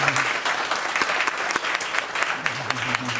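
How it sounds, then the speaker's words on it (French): An audience at an ambassador's farewell tribute claps in sustained, dense applause, a steady patter of many hands throughout, with a voice faintly audible over it. "Cet homme-là doit l'applaudir."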